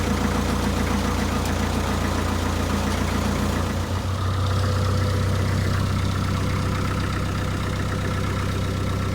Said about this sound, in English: little hand throttle just to keep it idling while it's low.